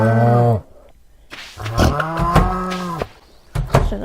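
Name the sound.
cows mooing in Stardew Valley video game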